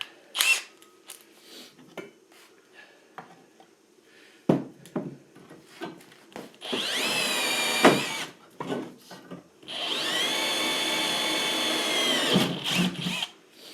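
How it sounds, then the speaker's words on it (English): A power drill whines steadily in two sustained runs, close by, boring a pilot hole in heavy metal, with scattered clicks and handling clatter between them. "I'm going to come back with a littler drill and do that pilot"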